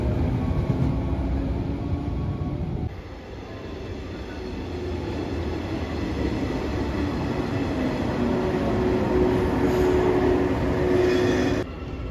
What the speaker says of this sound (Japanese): 北長瀬駅10時30分から31分発着普通列車糸崎行き115